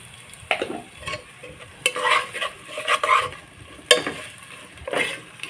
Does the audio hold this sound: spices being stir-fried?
yes